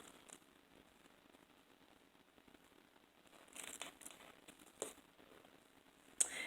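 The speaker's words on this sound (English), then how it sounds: "Now you want to remove the backing and expose the adhesive." Backing being peeled off Wonder Tape on a zipper, faint crinkly tearing and rustling in short bursts, quiet and close, growing louder toward the end.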